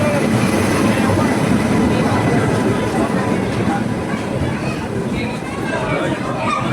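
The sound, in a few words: train arriving at station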